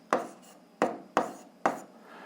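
A hand writes an algebra equation, four short scratchy strokes of pen or chalk, each a crisp rasping onset that quickly fades. Close, quiet and isolated, with no voices.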